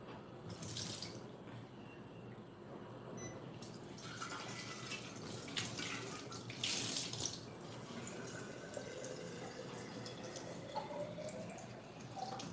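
A tap runs water into a container, a steady close splashing hiss with a few brighter surges and drips, moderately loud throughout with no talk.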